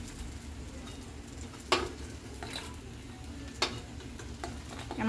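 Eggplant pieces frying in a pan, a low steady sizzle broken by a few sharp scrapes and clinks as the pieces are stirred, with no talk.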